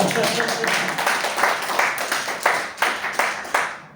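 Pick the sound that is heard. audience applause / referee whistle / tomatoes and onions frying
audience applause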